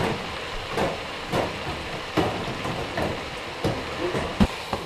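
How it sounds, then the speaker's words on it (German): A cod fillet sears in a hot pan with a continuous sizzling hiss, broken by recurring louder spits and crackles at a moderate, close distance in a kitchen. "Braten wir die jetzt einfach schön scharf an."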